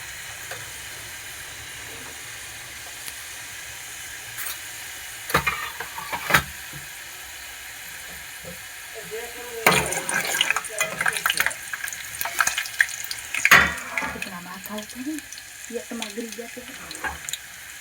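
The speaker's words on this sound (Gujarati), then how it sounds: "હવે આપણે લસણની કળીઓ તળાઈ ગઈ છે." Garlic cloves sizzle in hot oil for a fenugreek seed curry, a steady fry broken by sharp clatters and scrapes of stirring, with a voice talking briefly over it near the end.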